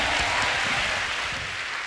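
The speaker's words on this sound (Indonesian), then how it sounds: "Tepuk tangan bagi Tuhan yang luar biasa." A church congregation at a Christmas worship service claps together in a brief, dense burst of applause lasting under two seconds, fading slightly toward the end.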